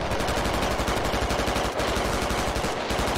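A BTR's coaxial machine gun fires in the Squad military shooter. The bursts are loud and rapid, continuous and densely rhythmic, and run with only a brief break.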